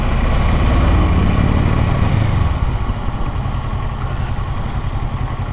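A motorcycle engine rumbles loudly nearby on a suburban road, a strong low throb in the first half that eases into a steadier, slightly quieter drone.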